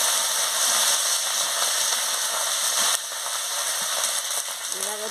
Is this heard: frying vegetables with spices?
yes